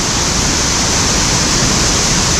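Ukkada waterfall in the Bhadra Tiger Reserve forest pours heavily during the rainy season, a loud, dense, unbroken roar of falling water surrounding the listener with no pauses.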